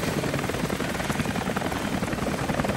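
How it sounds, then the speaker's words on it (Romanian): Steady helicopter rotor thrum in the video game Rise of the Tomb Raider, with a constant chopping throb, fairly close and continuous throughout, no voices. "se aude un elicopter"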